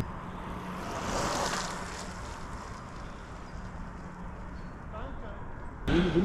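Steady wind roaring across the microphone while cycling, a broad continuous rush that swells a little early on, with a brief knock near the end.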